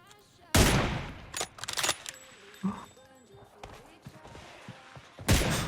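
Gunfire in the mobile battle-royale game PUBG Mobile: loud bursts of shots open and close the stretch, with scattered shots and thuds between, while players talk over the action.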